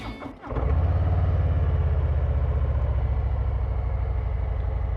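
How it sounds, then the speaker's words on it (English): A Harley-Davidson Hydra Glide's 114 Milwaukee-Eight engine cranks briefly, then catches into a loud, steady, close exhaust rumble that settles into an even, pulsing idle, with no talk. "Get a little bit of rumble upon that initial crank out of this 114 Milwaukee 8."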